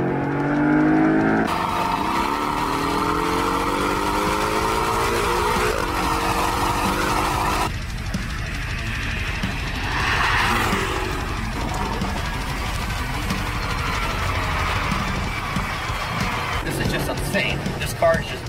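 A 2018 Porsche 718 Cayman accelerates hard on the road, its engine note climbing through the gears with clear shifts. Someone talks over the steady engine and road roar.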